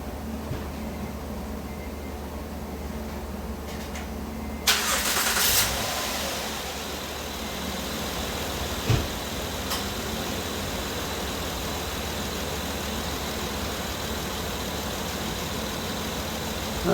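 A car engine cranks and fires up in a workshop with an exhaust fan running, then settles into a steady, even idle that continues for many seconds. No one speaks.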